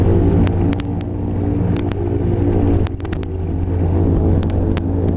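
Microlight aircraft engine droning loud and steady as the plane rolls along a runway through long grass at Maryborough, with sharp clicks and rustles over the continuous engine hum.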